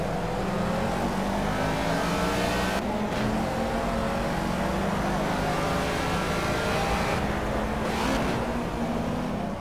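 A Ford Escort Mark 1 race car in the racing game Project CARS runs with a continuous, loud, raspy engine note, revs rising and falling through gear changes, with no talk.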